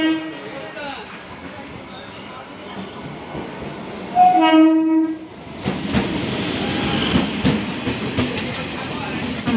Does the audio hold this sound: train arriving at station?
yes